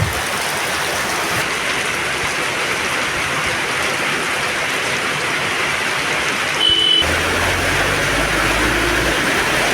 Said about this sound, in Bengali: বর্ষাকাল প্রতিদিনই প্রায় বৃষ্টি হচ্ছে দেখেন বৃষ্টির মধ্যে মানুষের জীবনযাত্রা কেমন কষ্ট হয়ে থাকে